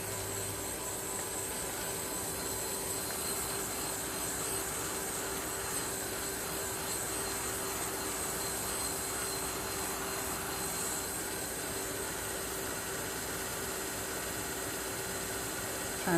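A heat gun dries alcohol ink shimmer mist and a crafting table, giving a faint, steady whooshing hum that runs unbroken throughout with no talking.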